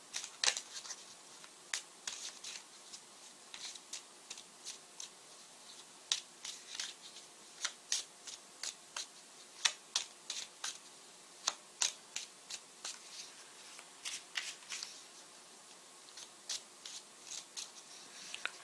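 Tarot cards being shuffled, giving quiet, crisp riffling clicks and snaps in an irregular, steady run of sharp taps against a soft hiss, with no talking.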